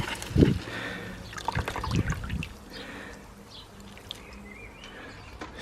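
A dry garden plant is watered, giving splashing and trickling water in a few close bursts, followed by a quieter stretch with faint outdoor background sound.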